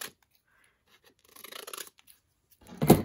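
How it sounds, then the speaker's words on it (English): Scissors snip through a traveler's notebook insert along the creased spine, with a few quiet close cuts and then one sharper, louder snip at the end amid near silence. "I'm going to kind of cut it straight up."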